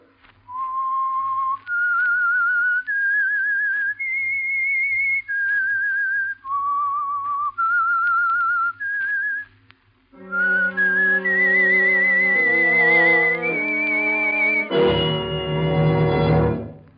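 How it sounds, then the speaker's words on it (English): A lone whistler carries the eerie rising and falling theme signal of The Whistler radio drama, clear and close, then a full orchestra swells in to finish the melody. "That whistle is your signal for the Signal Oil program, The Whistler."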